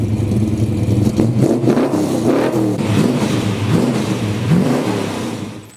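A Ford 5-litre Coyote V8 revs repeatedly, loud and close, its deep rumble rising and falling in pitch through several blips of the throttle.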